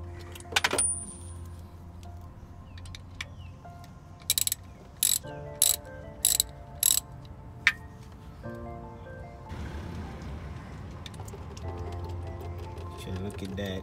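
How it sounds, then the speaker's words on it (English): A ratchet wrench unbolts the torque converter bolt on a Mercedes W210 transmission with an M111 engine and 722.6 gearbox: a few quick bursts of metallic clicking, close and distinct, with a voice talking around them. "Now unbolt the converter bolt."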